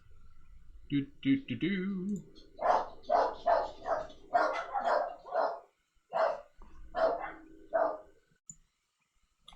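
A dog barks several times outdoors in a quick rhythmic run of sharp barks at moderate distance, with a few short yips at the start; no talk is heard.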